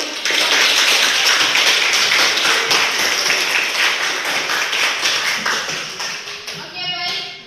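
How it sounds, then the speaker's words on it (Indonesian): A secondary school class claps after a group presentation, loud rhythmic clapping from a room of students that runs for several seconds and thins out toward the end, with a voice starting to talk at the close. "Tepuk tangan"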